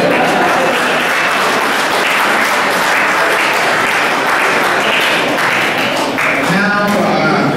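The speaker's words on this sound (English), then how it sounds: "We should all give him another round of applause." A round of applause at a graduation celebration fills the room as a dense, steady wash of clapping from a crowd, loud and continuous throughout.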